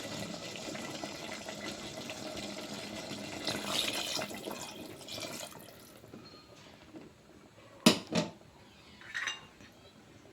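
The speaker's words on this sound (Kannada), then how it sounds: "ನಾನಿವಾಗ ಒಂದು ಸ್ವಲ್ಪ ನೀರು ಆ್ಯಡ್ ಮಾಡ್ಕೊತೀನಿ." Water pours into a pot of chicken gravy with a steady splashing and running sound for several seconds, followed by a few sharp clanks of a vessel and utensil, with no speech.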